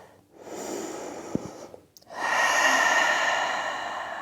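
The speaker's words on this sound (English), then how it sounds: "Take a breath" A person takes a deep breath during a vinyasa yoga flow: a soft breathy inhale, a brief pause, then a longer, fuller airy exhale, close and alone.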